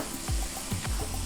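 Chopped spinach sizzling in hot oil with cumin and a pinch of asafoetida, a steady close frying hiss with a few brief stirring knocks.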